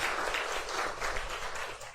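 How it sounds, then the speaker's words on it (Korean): Brief applause from a university chapel congregation welcoming foreign exchange students, a soft, diffuse wash of many hands clapping, fairly faint and even in level across the short stretch. "우리 격려의 박수 우리 함께 하겠습니다."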